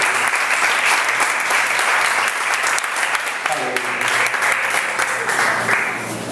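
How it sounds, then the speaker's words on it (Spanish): A church audience applauds loudly and steadily throughout, the dense clapping briefly joined by a short musical tone midway before easing slightly at the end. "gracias por un aplauso"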